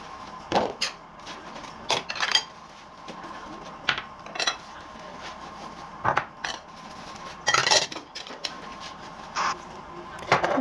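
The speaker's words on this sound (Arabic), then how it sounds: "اول شي بلشت بغسل المواعين، وغسل المواعين مالت الغدا" Dishes, pots and cutlery clattering and clinking in a home kitchen as the lunch dishes are washed, with sharp intermittent knocks and scrapes spread across the clip over low background noise.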